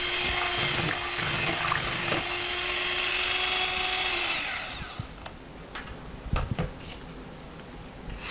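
An electric mixer whirs at medium-high speed, beating sweet potato pie filling with sugar in a bowl. The loud, steady drone runs for about four seconds, then stops, followed by a few clunks and taps.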